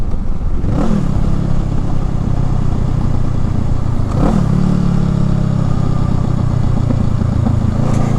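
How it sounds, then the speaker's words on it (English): A Honda Rebel 500 fitted with a Coffman's Thunder exhaust downshifts, its close, steady low engine rumble broken by two brief rev blips with faint deceleration pops and gurgles. "you definitely still hear a little bit of that deceleration, popping, gurgling noises"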